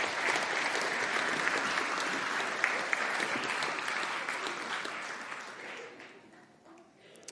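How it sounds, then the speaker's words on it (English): Sustained audience applause for performers at a Christmas Eve family carols by candlelight service, dense steady clapping from a crowd that tapers off toward the end. "let's give these guys a round of applause"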